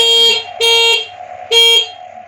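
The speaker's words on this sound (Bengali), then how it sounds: "হর্নটা একটু বাজে" A Prakriti electric scooter's horn gives three loud, close, buzzy honks: two longer blasts, then a shorter one after a pause, with a faint electric hum continuing between them.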